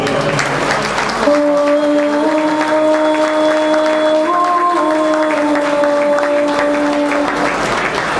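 An audience at an evening political gathering breaks into loud, sustained applause, with dense clapping throughout and sustained musical tones rising over it.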